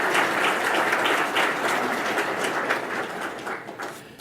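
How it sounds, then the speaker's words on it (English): An audience at Middlesex County College claps at a conference welcome session, a dense wash of applause that starts strong and gradually thins and fades toward the end. "Maybe a round of applause to everyone here at Middlesex County College."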